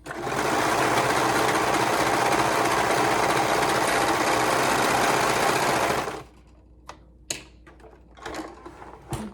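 A sewing machine stitching a seam runs loud and steady, a dense rapid mechanical whir for about six seconds, then stops, followed by a few brief clicks and fabric handling sounds.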